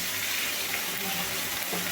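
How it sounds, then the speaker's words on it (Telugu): A small amount of water is poured into a pan of bottle gourd in a steady, gentle trickle, with a faint bubbling hiss and no talking. "కొంచెమే వాటర్ పోసుకోవాలండి. దీనికి మరిన్ని వాటర్ అయితే అవసరం రాదు."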